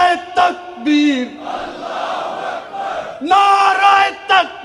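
Large rally crowd answering the Naara-e-Takbeer slogan at a Jamaat-e-Islami political gathering in Pakistan: loud collective shouts in several bursts, a sustained roaring chant in the middle, then more voiced cries swelling again near the end.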